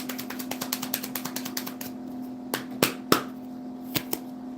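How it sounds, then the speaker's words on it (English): A small, high-quality tarot card deck being shuffled gives a rapid series of crisp clicking riffles, then a few slower, sharper card snaps and taps, close and fairly quiet over a steady background hum. "Love the way this little deck shuffles, man"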